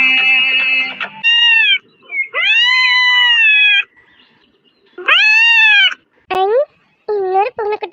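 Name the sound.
kitten meowing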